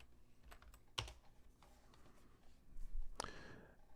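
Fingers type a search query on a computer keyboard, producing quiet, irregular clicks with a couple of sharper key strikes and small gaps between bursts, with no talking.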